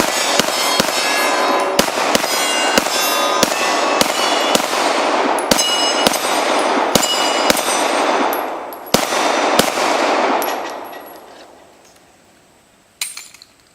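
A Glock 19 pistol fires a long string of sharp shots outdoors at steel targets. Evenly spaced loud cracks are followed by faint metallic rings, and then the firing stops and quiet remains.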